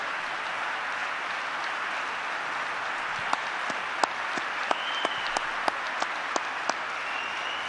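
Applause fills a large room at a meeting between Trump and the Saudi crown prince, a dense wash of clapping from a crowd with a few sharper, closer claps standing out near the end.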